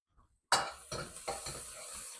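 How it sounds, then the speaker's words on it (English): Ginger and garlic hit a hot pan with a sudden loud sizzle, followed by a few scraping stirs of a spatula against the metal, the hiss continuing steadily. "push that around"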